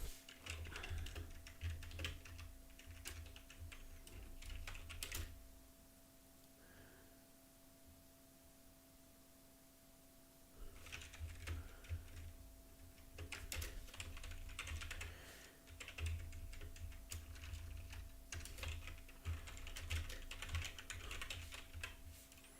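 Bursts of rapid clicking keystrokes on a computer keyboard, close and moderately loud, with a pause of several seconds midway before typing resumes under a faint steady electrical hum.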